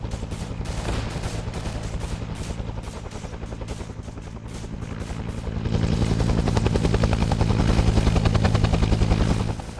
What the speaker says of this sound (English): The whole time, there's gunfire and everything